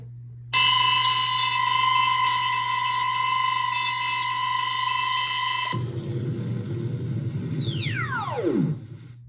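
A proton pack prop speaker plays a loud, steady electronic alarm tone that switches abruptly to a different tone, then sweeps sharply downward in pitch before cutting off.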